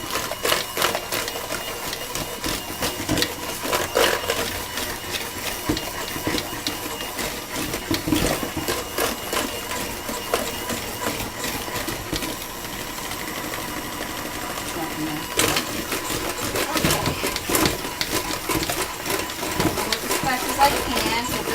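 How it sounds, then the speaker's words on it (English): An electric mixer whirs continuously while beating milk, buttermilk and eggs, a steady close buzzing with rattly clicks running throughout. "I'm going to go ahead and mix it up with a mixer for a few minutes."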